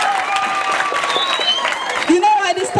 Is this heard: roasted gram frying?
no